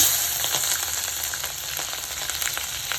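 Dried red chillies, curry leaves and green chillies crackle and sizzle steadily in hot oil with mustard seeds, making a close, dense hiss with faint popping and a little stirring. No one talks.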